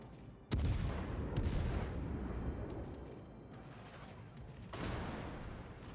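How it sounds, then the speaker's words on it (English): Anti-aircraft guns firing in the World of Warships naval video game, a sharp loud burst followed by rumbling booms and a second blast near the end, dense and continuous. "Anti-aircraft gun crews are on full alert."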